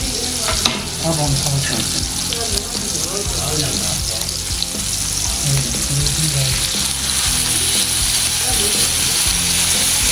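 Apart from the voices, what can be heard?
fresh garlic frying with chicken in a pan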